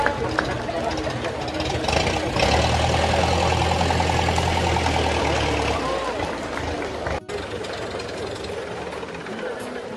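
A vintage Citroën 5CV, the small three-seat "trèfle" car, sits idling at a classic car show with a steady low engine rumble. Crowd noise and talk carry on around it throughout.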